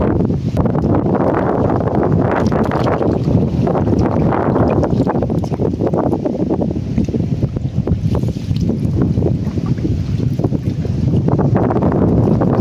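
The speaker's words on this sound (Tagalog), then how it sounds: "Lakas pa rin yung hangin." Strong wind roaring steadily and loudly across an open outdoor spot, with continuous gusty buffeting against the microphone and no pauses.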